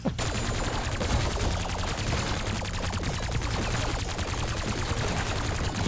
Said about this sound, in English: Who knew a little shitty 22 pistol was capable of this much destruction